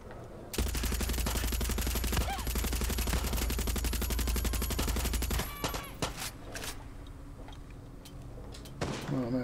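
Sustained rapid automatic gunfire in the Far Cry 6 video game, a loud continuous burst lasting about five seconds, then scattered clanks and a door-like slam as it tails off.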